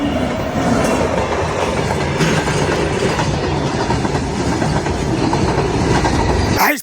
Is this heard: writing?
no